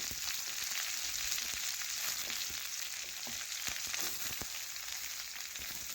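Small pieces of young pointed gourd frying in hot oil while being turned: a steady, dense sizzle runs throughout, with faint scrapes and taps of a spatula, close up and without any voices.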